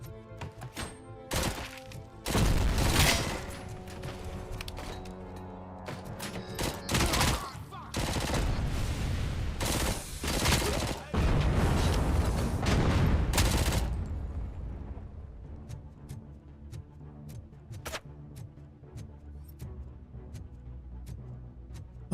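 Enemy gunfire in the shooter Robocop: Rogue City, with loud bursts of rapid shots clustered near the start and middle, then thinning to scattered distant single cracks over a quieter hum.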